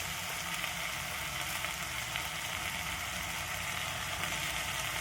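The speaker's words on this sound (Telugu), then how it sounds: "చక్కగా కూర ఉడికే వరకు ఇలా చక్కగా కలబెట్టుకోవాలి." Basella leaf and lentil curry cooks in a pan with a low, even sizzle and bubbling hiss, stirred now and then with faint scraping, steady and moderately distant.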